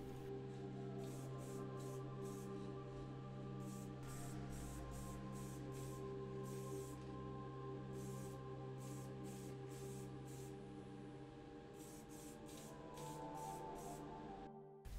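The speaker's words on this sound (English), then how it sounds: "the body and the bottom plate get several coats of AK Interactive Gloss Varnish" AK Interactive gloss varnish sprayed from a can onto a restored Matchbox 54B Cadillac Ambulance diecast body and bottom plate, short hissing bursts in repeated pulses over a steady background hum.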